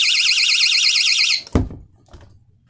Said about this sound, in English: the alarm will go off.